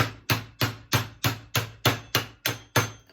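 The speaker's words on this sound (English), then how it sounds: "tap it on nice and easy" Steel hammer taps a part onto a gearbox assembly, nine evenly spaced, sharp metallic hits about a third of a second apart, each ringing briefly before the next.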